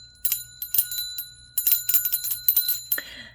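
A small bicycle-style bell rings in quick bursts of repeated dings, clear and close, with brief pauses between clusters and a few softer rattling rings near the end.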